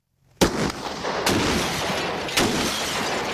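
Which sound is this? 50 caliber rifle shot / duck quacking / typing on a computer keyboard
50 caliber rifle shot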